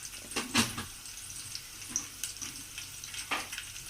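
Ginger garlic paste sizzles and spits in a hot pan while Telugu-style masala dal rice is cooked, a steady crackling fry with a few sharper bursts and stirring scrapes, close and moderately loud.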